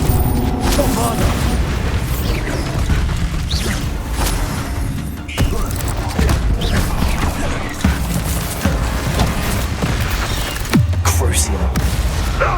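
Booming blasts and crashing impacts from the Bombarda explosion spell in Hogwarts Legacy, several heavy thuds over about twelve seconds amid a continuous loud wash of combat noise and game voices.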